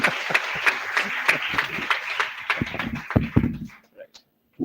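Scattered audience applause at a pharmaceutical analysis seminar, a handful of claps that thin out and fade to silence, with some voices in the room.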